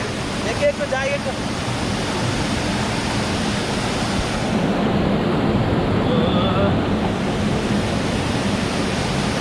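At Badigunta near Akuru, Rampachodavaram, the Bahubali waterfall keeps up a constant broad hiss and roar, close and unbroken, with brief faint voices over the churning water.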